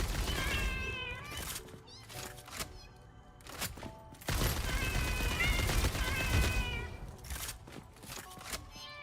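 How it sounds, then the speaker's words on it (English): Cat-like meows from creatures in the video game Satisfactory, several drawn-out, wavering cries repeating over a dense, rumbling game soundscape, loud and close. "I don't remember them having cat sounds the last time I saw these"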